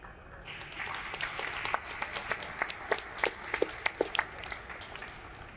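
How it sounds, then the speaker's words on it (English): An audience claps for an artist after a community arts presentation, the applause swelling into a steady patter with sharper individual claps standing out near the end, no voices over it. "Can we clap it up again for Sari, y'all?"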